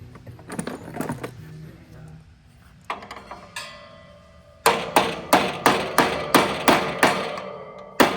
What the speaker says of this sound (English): Might need a socket or something to tap that down, or a wrench.